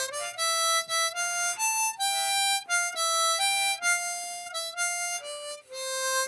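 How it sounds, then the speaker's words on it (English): A harmonica plays a simple old-time tune one clean single note at a time, clear bright tones stepping up and down with short gaps, close and alone. "He said it'll sound like this when you first learn how to play it single note."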